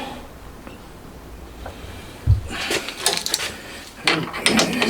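A screw is driven in to fasten a cowl part on a handmade Honda RC146 motorcycle replica, a thud followed by bursts of close ratcheting, clicking mechanical sound.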